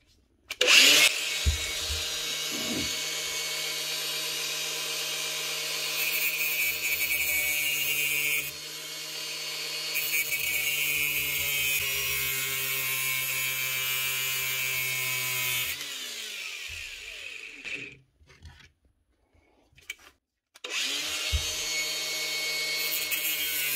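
A power tool cutting down through a drill's chuck spindle shaft, a loud continuous whining grind running in long stretches, pausing briefly, then resuming near the end.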